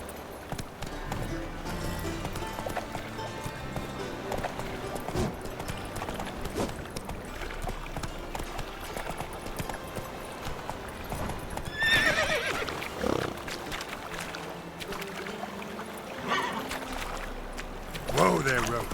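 Roach, the horse in the video game Witcher 3, gallops with rapid clip-clopping hoofbeats and lets out several whinnies and neighs over a busy background of game sound.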